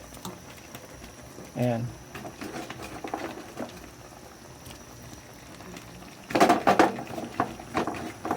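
Chayote pieces sizzling with squid in a hot pan for a Filipino sauté, a steady bubbling hiss with bursts of clatter, under a man's speech.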